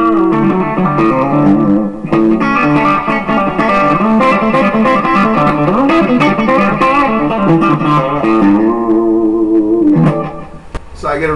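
An electric guitar, a Music Man BFR Luke played through its rear humbucker with compression for a country sound, plays a bright, sustained run of notes and chords, steady and up close for most of the phrase.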